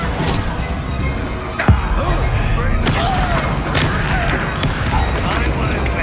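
A Bombarda spell blast in Hogwarts Legacy lands as one sharp thump amid dense combat noise and game sound, with other spell effects around it.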